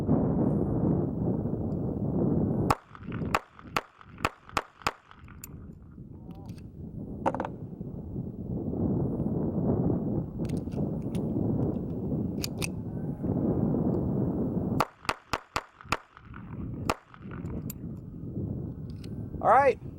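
Jimenez JA22 .22 pistol firing through its last two magazines outdoors in wind, two rapid strings of sharp, close cracks with a few scattered single shots between, over steady wind rumble.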